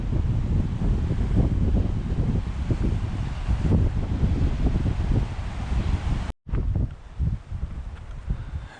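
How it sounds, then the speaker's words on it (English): Strong wind blows by a whitecapped lake on Colorado Trail Segment 11, a steady, loud, close roar buffeting the microphone with leafy rustle, briefly cutting out near the end before gusting back. "The wind has picked up."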